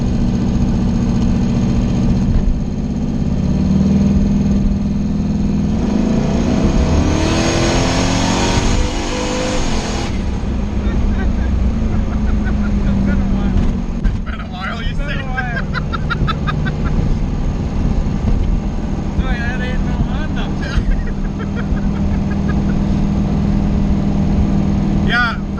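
A Chevstang's engine tuned with a MicroSquirt idles with a loud, steady hum, then gets a sharp rev that rises and falls before settling back to idle, with someone talking over the running motor.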